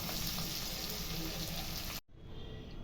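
Masala sizzles and fries steadily in a pan, a dense continuous crackle that cuts off abruptly near the end, leaving a quieter fizzing hiss.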